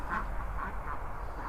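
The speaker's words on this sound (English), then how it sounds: "Now the ducks are making a load of fuss" Ducks in a garden enclosure making a fuss, with two or three quacks in quick succession over a steady low outdoor rumble.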